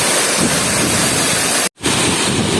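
Angel Waterfall pours in a constant, loud broadband roar of falling water, heard close and unbroken apart from a momentary dropout.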